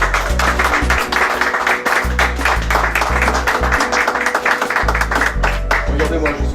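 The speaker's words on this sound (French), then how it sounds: "Et allez, on a pas mal aux mains, on va les applaudir encore." An audience at the Baguettes d'or 2016 award ceremony in Puteaux applauds over loud, thumping background music, the clapping steady and dense throughout.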